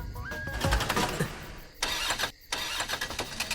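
A car engine cranks and sputters in short, uneven bursts, catching briefly and then cutting out between attempts, close and fairly loud.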